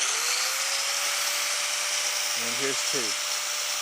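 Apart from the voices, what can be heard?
power tools running on portable power station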